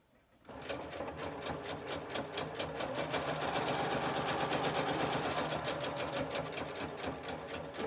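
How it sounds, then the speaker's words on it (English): A home sewing machine top-stitches around the outside of a simple fabric bag, a fast, steady close whirring and needle rattle starting abruptly and running continuously, no talking. "stitch around the outside. It's just a top stitch, nothing to panic about."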